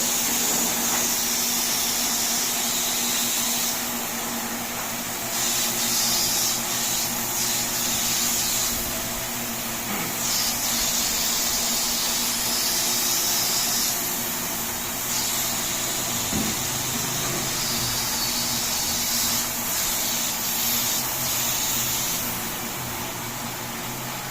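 Sanding sealer is sprayed steadily during a kitchen installation in a townhouse in Baliwag, Bulacan, a continuous hissing spray that swells and eases in bursts over a constant motor hum, with no talking.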